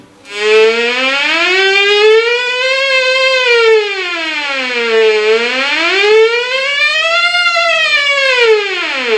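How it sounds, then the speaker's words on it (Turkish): A metal detector detecting a gold bracelet gives a loud, steady siren-like electronic tone rising and falling in slow sweeps, wailing continuously without pause. "Böyle polis arabasını veya ambulansın çıkardığı siren sesi gibi bir ses çıkaracak."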